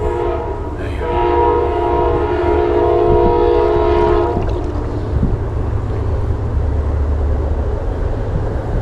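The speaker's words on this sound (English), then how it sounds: "The train about to pass." A loud train horn blares as a train passes near a river where people fish from a canoe. Steady harmonic blasts last about four seconds, then fade into the heavy rumble and roar of the passing train.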